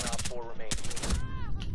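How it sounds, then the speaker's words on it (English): Rapid suppressed FAMAS rifle fire from the Rainbow Six Siege video game comes in quick muffled bursts, mixed under excited player voices. "Suppressed FAMAS is insane."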